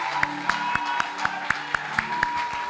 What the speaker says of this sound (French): acclamons pour le roi. Clap for Jesus yet.